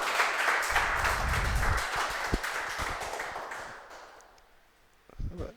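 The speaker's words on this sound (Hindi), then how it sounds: "इनका जोरदार ताली से स्वागत हो।" An audience claps to welcome a father and his airman son onto a stage, the applause loud at first and then thinning and fading, with scattered claps and a brief clatter at the end.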